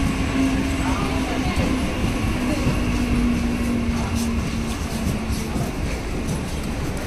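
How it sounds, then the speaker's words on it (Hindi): A train pulls into a platform at a busy Mumbai-area railway station, a steady, close rumble of rolling wagons with a thin metallic whine running through most of it. "दूसरा वाला ट्रेन आ गया 2 नंबर में"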